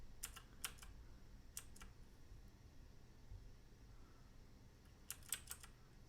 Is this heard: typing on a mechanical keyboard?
yes